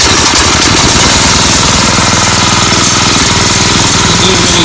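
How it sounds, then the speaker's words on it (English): A Harbor Freight Predator 6.5 horsepower engine mounted on a Cub Cadet garden tiller, running loud and close with a steady rapid chugging throb and no talk over it. "put your choke on, put the gas on, set it to on, and it should crank right up"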